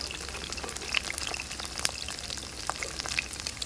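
Potato pieces deep frying in hot oil, a dense, crackling close-up sizzle with scattered pops, steady throughout with no voices.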